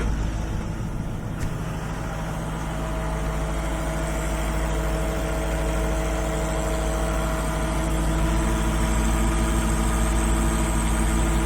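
A White 4-210 tractor engine idles after a hydraulic repair, a steady low rumble with an even, unchanging throb that runs throughout, close and loud with no talking.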